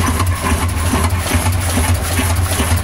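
Engine running unloaded at its natural idle speed while charging discharged batteries, a steady continuous low rumble that stays loud and even throughout, with no voices.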